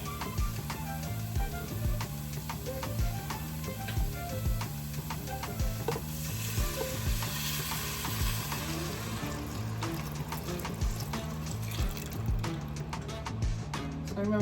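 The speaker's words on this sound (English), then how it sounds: "I'm just gonna keep on mixing into that" Broth being stirred into clam chowder in a pot, a steady, rhythmic scraping and sloshing that repeats throughout, with soft simmering underneath and no voice over it.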